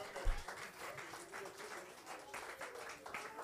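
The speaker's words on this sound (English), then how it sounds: "would you put your hands together for the Lord this morning?" A church congregation claps together for the Lord during a worship service, a steady patter of hands with brief voices underneath, fairly faint and distant.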